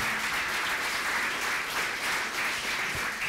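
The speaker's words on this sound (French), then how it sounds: "Je vais demander d'applaudir et d'accueillir Gabriel Wall," Audience applause welcoming a child psychiatrist onto the stage at a talk, a steady, even wash of many hands clapping heard from a distance, with no talking.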